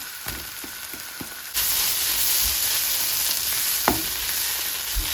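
Ridge gourd sautéing in a pan, a quiet start with a few taps before a loud, steady frying hiss sets in, with an occasional scrape of stirring.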